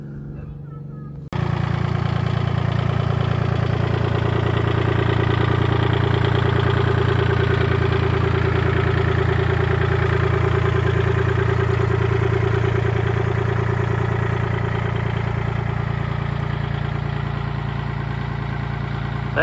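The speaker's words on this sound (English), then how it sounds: "That Kubota sure has helped move these 4x5 rolls around" A Kubota tractor engine starts up abruptly after a brief quiet moment, then runs at a steady, close, droning idle on a small farm, a constant low rumble that holds throughout.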